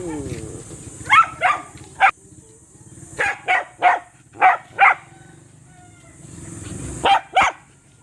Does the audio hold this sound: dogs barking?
yes